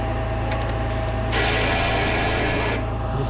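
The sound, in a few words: ratchet snugging down bolts on a 2013 Silverado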